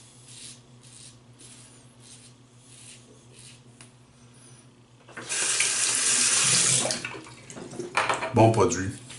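Tap water runs into a sink as a face is rinsed after a traditional shave, a close, steady gush lasting a few seconds, preceded by light scrapes and followed by splashing.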